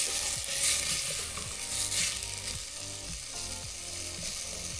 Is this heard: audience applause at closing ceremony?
no